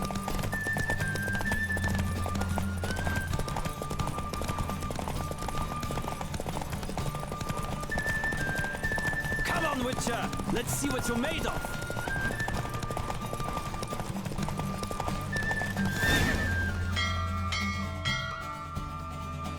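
Horse galloping in The Witcher 3 during a race, a continuous rhythmic clatter of hooves under wind and music-like tones, with a bell ringing near the end and a voice shouting briefly.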